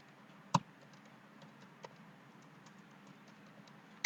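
Computer keyboard typing heard as a few soft, sparse clicks over faint background noise, with one sharper tap near the start and another at the end.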